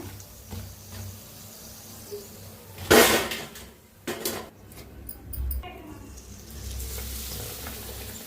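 Bread pakoda fries in hot oil with a lively close sizzle, broken by a few sharp clatters and scrapes as the pieces are lifted out.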